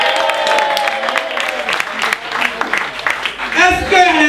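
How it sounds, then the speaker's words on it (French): Audience at a one-man comedy show applauds for Côte d'Ivoire, steady clapping and crowd noise running under a loud voice speaking over it, with a burst of cheering near the end. "applaudissez pour la Côte d'Ivoire"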